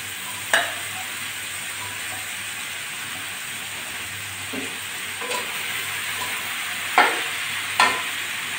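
Onions, bitter gourd and potatoes being stir-fried in a pan for a Bengali chorchori, with a constant low sizzle and occasional sharp spatula scrapes, two of them louder near the end. No one speaks.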